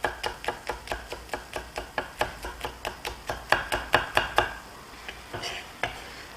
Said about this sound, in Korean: 칼질을 해주시면 됩니다.